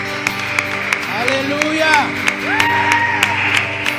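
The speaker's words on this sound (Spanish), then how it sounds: "Fuerte ese aplauso al Señor." A church congregation claps and cheers with whoops, a voice calling out in praise over the steady applause, lively and fairly close.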